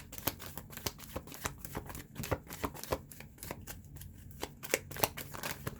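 Tarot cards are shuffled in quick, close, crisp riffles, with a dense run of papery flicks and snaps and no talking over them.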